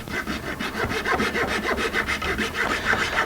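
A hand saw rasps back and forth through wood in a quick, steady rhythm of short strokes, close up.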